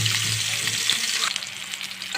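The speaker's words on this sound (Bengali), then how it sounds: "প্যানে খেতে কিছু পরিমাণে আমি সয়াবিন তেল দিয়ে দেবো মাছগুলো ভাজার জন্য" Pieces of rui fish sizzle steadily in hot soybean oil in a pan, with a constant loud crackle and no talking over it.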